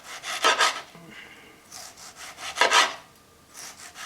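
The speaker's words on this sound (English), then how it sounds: "we're gonna slice nice 1/8 of an inch slices of our tomato and have this set aside" A serrated knife saws through a tomato in two or three bursts of short rasping back-and-forth strokes, close and clear with brief pauses between, and no speech.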